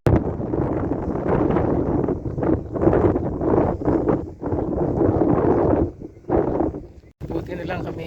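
Steady wind buffets the microphone at a seaside cove in the late afternoon, a continuous rumbling roar with gusty swells and brief dips, close and loud.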